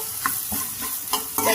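Sliced bitter gourd frying with turmeric and salt is stirred in a pan, giving a soft continuous sizzle with a few scraping strokes of the spoon, close and without voices.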